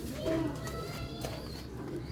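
Ferozpuri pigeons, an old rare breed, give a low cooing call near the start, with soft background murmur and faint bird sounds continuing behind it.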